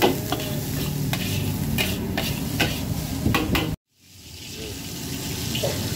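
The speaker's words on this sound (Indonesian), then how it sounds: "nasi goreng udang nih" Shrimp fried rice sizzles and is stirred in a wok at a Chinese food stall, with loud continuous frying, metallic scraping and clanks, then a sudden cut to a quieter kitchen background.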